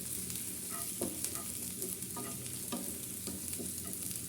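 Sliced onions fry into beresta for a raw mango dal, a soft steady sizzle broken by several brief clinks and scrapes as the pan is stirred.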